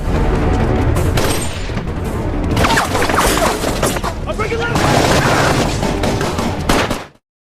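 Gunfire exchange in the film The Rip, with bursts of shots, booms and crashes layered over tense action sound for about seven seconds, then stopping abruptly.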